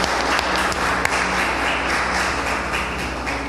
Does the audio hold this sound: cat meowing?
no